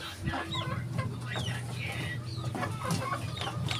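Native chickens cluck busily and close by at feeding time, overlapping soft calls from several birds over a low background hum.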